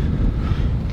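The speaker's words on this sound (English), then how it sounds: "Extremely windy outside" Strong wind outside a house buffeting the microphone, a heavy low continuous rumble that is loud and close, with no talk.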